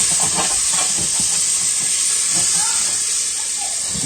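Butter melts in a pan with a loud, continuous close-up sizzle and hiss, and faint utensil clatter underneath.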